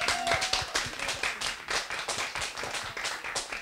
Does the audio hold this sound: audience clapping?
yes